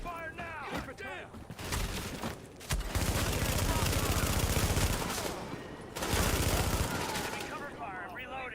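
Sustained automatic gunfire from The Division video game, dense rapid bursts running most of the stretch with brief gaps, loud and close, with voices speaking over the start and end.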